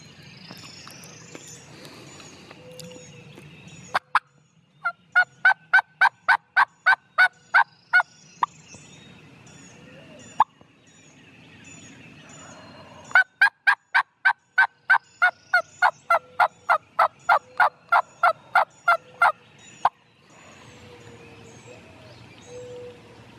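Wild turkeys, hens and gobblers, call repeatedly outdoors on public land in Illinois, with rapid gobbling bursts and rhythmic yelping runs, moderately near, against a faint background of other birds.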